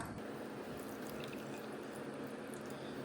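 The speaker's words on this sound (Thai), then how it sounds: "เนี่ยก็จะมาเทน้ำชาค่ะใส่ในแก้วเลยค่ะ" Green tea is poured from a moka pot into a glass, a steady, close splashing trickle of liquid running continuously with no pauses.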